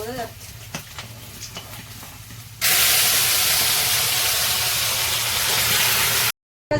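Fish frying in hot oil in a home kitchen, a loud steady sizzle that bursts in after quieter clinking and handling sounds and runs on close and continuous before cutting off briefly.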